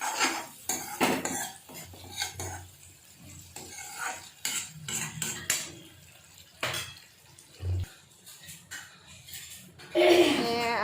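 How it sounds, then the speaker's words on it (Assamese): Potatoes frying with spices in a pan for an egg curry, busy spoon scraping and clanking against the metal pan in irregular bursts over a light sizzle, ending in a louder burst of hissing. "আলুখিনি দি অলপমান ভাজি আছোঁ এনেকৈ।"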